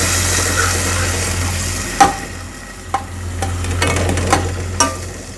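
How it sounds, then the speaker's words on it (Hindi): Garlic frying in a pan with tomatoes and green chillies added, a steady close sizzle with a low hum beneath and a few spoon clinks and stirring knocks. "लहसुन को अच्छे से भूनने के बाद अब मैं इसमें टमाटर और हरी मिर्चें भी डाल दूँगी"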